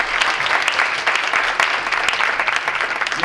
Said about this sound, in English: Another rousing round of applause for Dr. Smith.